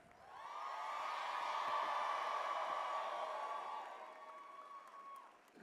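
Applause from a graduation ceremony audience at a correction academy rises into a steady, fairly distant wash of clapping that holds for several seconds before fading, with no talking over it.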